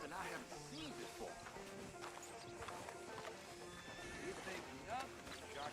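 Horses in a Western open-world video game whinny and clop their hooves amid busy background ambience, with people talking over the scene.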